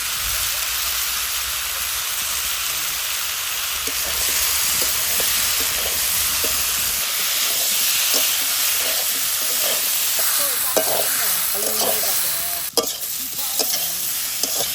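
Masala sautéed in oil for a home-cooked curry, giving a loud, steady sizzle throughout, with scraping stirs of the pan growing more frequent in the second half.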